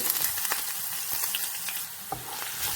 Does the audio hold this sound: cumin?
yes